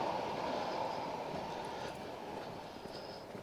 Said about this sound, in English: Just see a train going past over there, beyond that digger there.